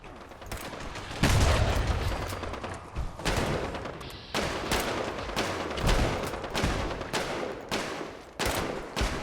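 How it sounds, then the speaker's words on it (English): Bolt-action rifle in the game Fallout 76: a series of loud, spaced gunshots with booming tails, each followed by a pause, mixed with game combat noise and no talk. "I got a bolt-action rifle."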